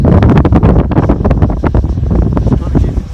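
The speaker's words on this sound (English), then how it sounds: "It's hard with this wind now." Strong wind buffets a microphone outdoors on a very windy day while a model jet with a ducted fan is flown, making loud, gusty rumbling bursts throughout.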